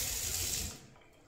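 Water poured out as an offering to the sun, a steady close splashing hiss that runs for most of the moment and then stops, leaving quiet.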